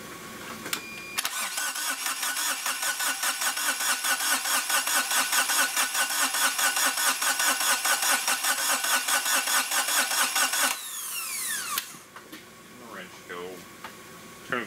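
A Kubota diesel swapped into a Geo Metro, with glow plugs used, cranks with a fast rhythmic chugging for about ten seconds before it cuts off; voices talk over it and afterward.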